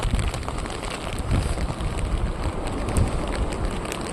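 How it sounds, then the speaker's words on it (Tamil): Steady rain falls at the Thoothukudi new port beach, a continuous broadband patter with no distinct drops standing out, fairly loud and even throughout with no voices. "ஆனால் மழை பெய்யுது"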